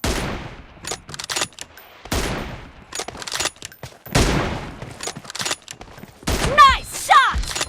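Gunfire in a video game match, with bursts of shots and rapid volleys recurring through the clip, some sharp and loud, alongside synthetic whooshing game effects near the end.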